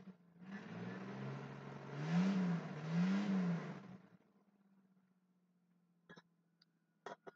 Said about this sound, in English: Motor sounds pretty good.